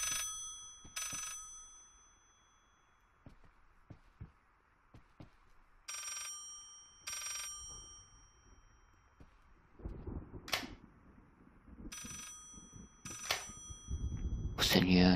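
A telephone bell rings in the psychological horror game Layers of Fear, sounding in repeated double bursts with pauses between, while someone talks and other brief thuds and noises break in.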